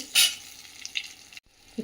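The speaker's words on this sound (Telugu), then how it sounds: "పోపు వేగాక కొంచెం ఇంగువ వేసి బాగా కలిపి" A brief burst of sizzling tempering oil with asafoetida and a few scraping stirs of a spoon in a pan, close up and short.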